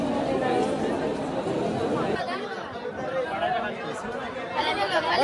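Dense crowd chatter fills a busy Ganpati darshan queue during the 2025 festival, a steady babble of many overlapping voices that eases slightly after a couple of seconds but never stops.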